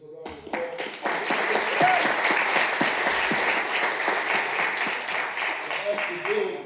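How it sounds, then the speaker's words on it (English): Applause from the audience at a city legislative oversight committee meeting swells quickly into sustained, fairly loud clapping that continues steadily, while a voice is heard over the start. "Give him a round of applause"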